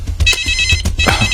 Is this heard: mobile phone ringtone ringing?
yes